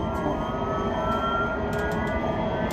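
A jet engine in a flight simulator at an aviation science museum in Chiba hums with a steady, whining drone and a low rumble beneath, continuous and moderately loud.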